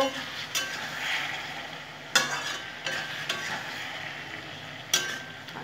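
Chinese cabbage is stirred in a pan with soy sauce. A low, steady frying hiss sits under intermittent sharp spatula taps and scrapes on the pan, close by and with no talking.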